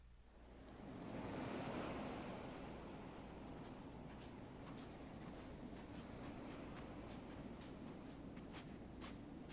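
Ocean waves wash onto a beach in the video game Kingdom Hearts 3, a soft, steady surf hiss that swells early and then holds even and faint, with no voices.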